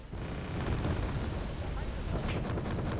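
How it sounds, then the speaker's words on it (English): Incoming artillery fire in the war strategy game Wargame Red Dragon: a dense, continuous rumbling barrage of overlapping blasts that holds at a steady loud level, with a voice faintly present underneath. "more artillery is coming in"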